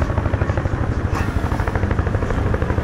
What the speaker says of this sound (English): Hey, Nick, there's a helicopter in the sky.